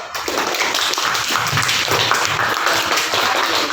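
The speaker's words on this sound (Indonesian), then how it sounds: "tepuk tangan dulu" Classroom participants clap together at a lesson, a loud, close burst of many hands with uneven rhythm that holds steady for a few seconds.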